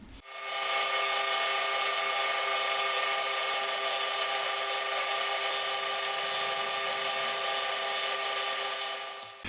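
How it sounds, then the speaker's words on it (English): A metal lathe turns the point on a stainless steel plunger with a continuous high, steady whine and hiss of cutting that holds evenly throughout, close up and without speech. "now all we have to do is turn the lathe on and start to machine our point"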